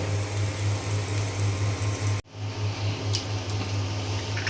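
Salted noodles fry in a pan on a home kitchen stove, giving a steady hiss and sizzle with a low hum beneath and one brief clank partway through.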